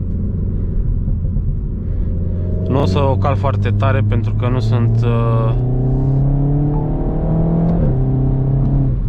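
A car engine rumbles and revs, with a rapid burst of sharp crackling exhaust pops midway, while someone talks over it.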